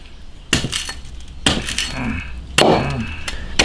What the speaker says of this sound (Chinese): 现在把它那个爪子这里给剁了，